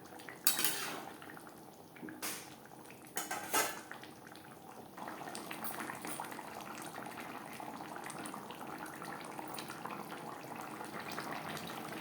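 Metal utensil clinks and scrapes against a cooking pan a few times as chela fish is stirred into curry gravy, followed by a steady soft sizzling wash; quiet and close, with no talking.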